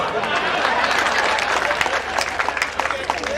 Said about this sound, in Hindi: मैं कहना चाहूंगा बात आप तक पहुंचे तो एक श्रोता की तालियां चाहूंगा।